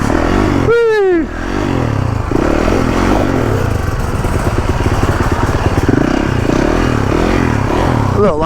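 A big motorcycle rides along a trail with a loud, steady engine drone throughout, punctuated by clattering and scraping from the rough ground and a brief shout near the start.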